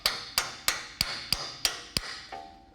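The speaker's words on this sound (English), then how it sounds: "Now it just slides onto the stock bracket," A hammer taps a track bar drop bracket onto the stock bracket of a 1966 Ford Bronco, seven sharp, evenly spaced metallic strikes, close and clear with no talk.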